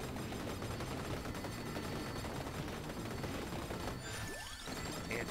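Multi-stage missile explosions in the video game Vampire Survivors, a dense, nonstop barrage of rapid crackling blasts. A brief falling tone sweeps through near the end, and no one talks.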